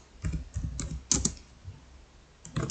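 A computer keyboard clicks under quick, uneven typing, with short clusters of keystrokes and brief pauses, close and fairly quiet.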